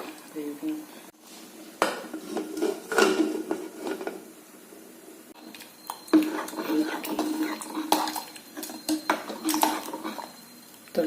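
Metal pot and utensil clatter in a home kitchen while a lid goes onto a pot of sambar vegetables and water cooking on the stove, with scattered clinks and scrapes throughout and a louder run of knocks near the end.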